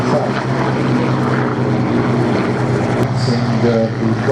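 Propeller aircraft engine of a WWII Spitfire or Hurricane, a steady loud droning roar with a harmonic hum, continuous throughout with a brief higher whine near the end.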